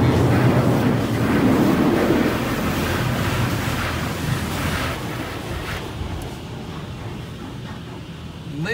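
A D&S 5000 automatic car wash blasts water at a van, a loud, dense roaring spray that fills the space and slowly eases off toward the end, with no talk.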